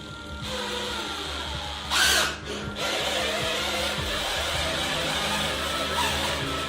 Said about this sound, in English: Put your full power on the drill.